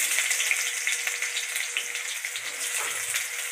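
Half an onion drops into hot oil and sizzles with a steady, bright hiss that holds evenly throughout, close and fairly loud, with no talking.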